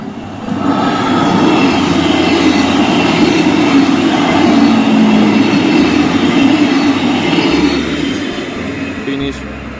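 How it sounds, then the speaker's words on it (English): A train rumbles past steadily for several seconds, a broad heavy roar that rises quickly and fades slightly near the end, with faint voices underneath. "now I have to wait here for the train passing by"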